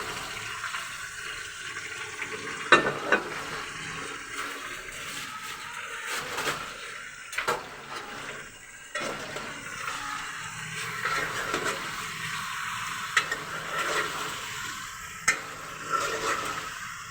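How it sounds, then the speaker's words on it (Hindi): Boneless chicken pieces fry in ghee with garlic, giving a steady soft sizzle with occasional louder stirring clatters and scrapes, heard close up with no talking. "चिकन को हमने इतना भूनना है इस घी और लहसुन में"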